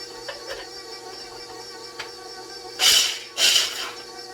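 Food processor pulsing nuts, likely pistachios, for Grinch drop cookies: two short whirring bursts close by, each about half a second, separated by a brief pause, with faint clicks and kitchen noise before them.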